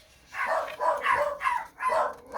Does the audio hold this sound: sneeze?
no